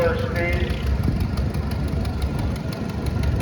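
A heavyweight Oil Pull tractor's two-cylinder oil-cooled engine runs at slow speed during a steam and gas engine society parade, a steady low rumbling chug with a voice talking over it.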